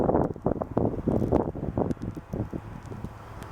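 Wind gusting across frozen wetlands around a small iced-over lake, a steady rumbling roar with buffeting microphone gusts that rise and fall throughout, loud and close.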